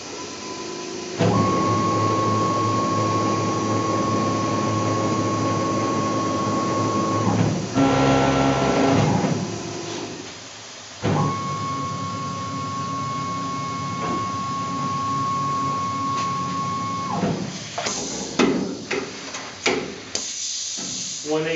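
A Tormach PCNC 1100 CNC mill runs a half-inch spot drill into a vise handle, giving two long, steady whining cuts separated by a brief pause and clattery machine noise, ending in scattered clicks and knocks.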